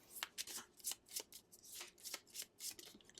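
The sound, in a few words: shuffling Wingspan board game cards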